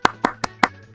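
Four sharp hand claps in a steady, evenly spaced rhythm, close and loud, with brief silence between each.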